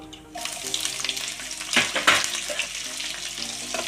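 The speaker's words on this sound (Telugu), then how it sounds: "ఉల్లిపాయలు వేసుకున్నాం," Sliced onions hitting hot oil and frying for a puri curry, a steady close sizzle with stirring scrapes in the pan, no talking.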